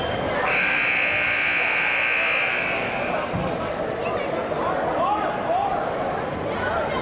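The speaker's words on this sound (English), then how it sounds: "Ofori at the shot clock buzzer." A basketball shot clock buzzer blares loudly and steadily for about two seconds in a busy gym at a Regina vs Victoria game, with crowd noise and a commentator's voice continuing after it stops.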